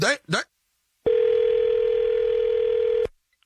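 A short burst of speech gives way to a steady, loud telephone dial tone after the call is hung up. The tone holds unbroken for about two seconds, then cuts off abruptly.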